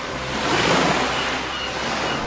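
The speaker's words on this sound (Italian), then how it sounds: "dove il mare si sente." Sea waves wash in a radio advertisement for a seaside restaurant, a broad continuous surf roar that swells gently and stays steady, alone with no speech.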